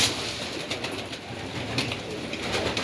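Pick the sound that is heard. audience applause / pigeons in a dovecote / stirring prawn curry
pigeons in a dovecote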